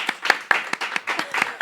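A few people clapping their hands, a sparse irregular run of distinct claps over under two seconds, fairly close and moderately loud, with no speech over it.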